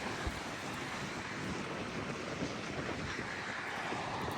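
Wind blows outdoors during the first snowfall in Prince George, British Columbia, a steady broadband rush with low gusty rumble and no voices, moderately quiet and continuous throughout.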